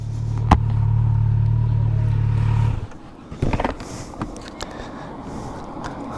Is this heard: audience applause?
no